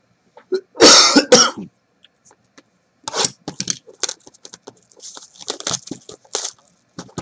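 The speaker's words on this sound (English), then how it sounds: "Sorry for the coughing" A man coughs hard in a quick burst of several rough coughs up close, followed by quieter throat clearing and small scraping handling noises.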